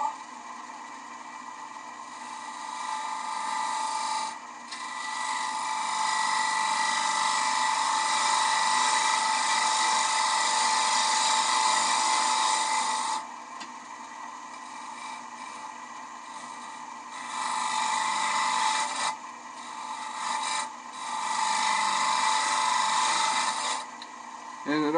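A wood lathe gouge cutting a turned bowl, working left to right across the surface, makes a steady, loud, high-pitched scraping whine that runs in long sustained passes, broken by a few brief pauses as the cut is lifted and restarted.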